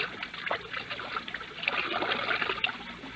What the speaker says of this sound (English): They can't hear the fountain from the house